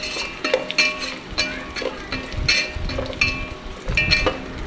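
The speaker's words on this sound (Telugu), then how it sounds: "తర్వాత కాజు వేసి చక్కగా ఆయిల్లో ఫ్రై చేసేసుకున్నాము" Cashews frying in hot oil with browned onions and slit green chilies, a soft sizzle under repeated scraping and clinking of a spoon against the pan in an irregular stirring rhythm, close up, no talking.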